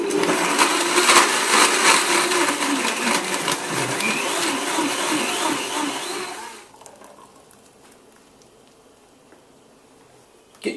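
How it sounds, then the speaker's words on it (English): Blender on high crushing ice for a smoothie, a loud continuous whirring grind that holds for about six seconds, then cuts off and leaves near silence. "Blend on high for 60 seconds, or if you've got this blend deck, press 2"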